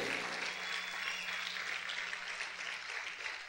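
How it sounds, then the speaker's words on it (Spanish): A church congregation claps loudly for the Lord during a prophetic teaching service, a steady dense wash of applause filling the whole moment with a faint low hum beneath. "Aplaude fuerte al Rey."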